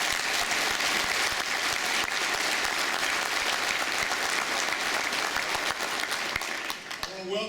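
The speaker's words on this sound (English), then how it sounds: "So again, if we could give him a round of applause." A crowd at a Congressional District 22 gathering applauds a military veteran and law enforcement officer, with dense, sustained clapping that tapers off near the end.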